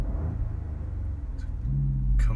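A 2018 Peugeot 308 1.2 PureTech engine idles with a low, steady rumble, then rises into a deeper, louder rev near the end.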